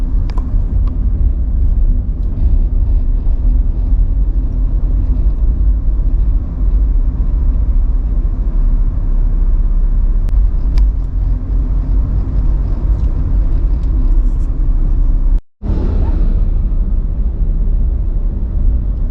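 Car engine drone and road rumble while driving along a rural road past resorts near Chonburi, Thailand: steady loud low rumble throughout, with one abrupt brief dropout near the end and no talk.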